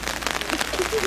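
Light drizzle patters steadily outdoors while walking in Europe, a dense soft hiss of fine drops, brief and continuous.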